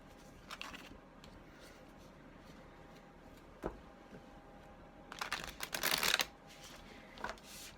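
A very thick tarot deck, split into several parts, gets shuffled by hand across a table in soft papery bursts, quiet at first and then a louder flurry of riffling near the end.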